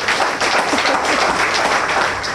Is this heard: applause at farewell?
yes